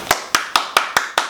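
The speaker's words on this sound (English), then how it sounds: "Then clap for me then." Six crisp hand claps in a steady, even rhythm, each sharp and close, with quiet gaps between them and no talk.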